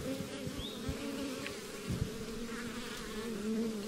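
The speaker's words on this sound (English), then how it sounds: "Lots of bees" Package honeybees buzzing in a hive, a dense steady hum with individual bees droning past, close and continuous.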